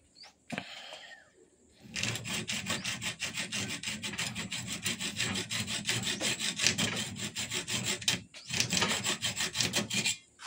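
A hacksaw cuts through aluminium tube meant for nerf barrels, rasping in steady back-and-forth strokes. The sawing is close and fairly loud, with one brief pause near the end before a final burst of strokes.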